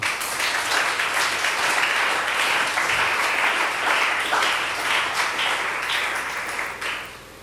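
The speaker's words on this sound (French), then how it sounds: "Est-ce qu'on peut acclamer pour la parole?" A church congregation's sustained applause, a loud, dense wash of clapping hands that holds steady for several seconds before tapering off at the end.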